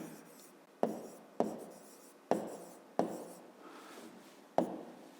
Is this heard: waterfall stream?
no